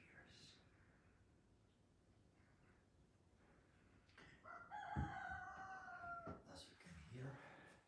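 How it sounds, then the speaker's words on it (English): A rooster crows loudly nearby, a long drawn-out call, with some scattered clucking and quieter bird sounds before it. "chickens have been released"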